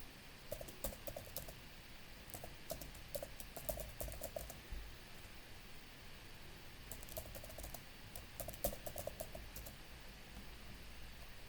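Faint typing on a computer keyboard: short bursts of quick key clicks separated by pauses, over a quiet room hiss.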